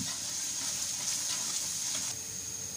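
Garlic frying slowly in a pan over low heat until lightly browned, giving a steady, soft, continuous sizzle with faint crackles throughout and no voices.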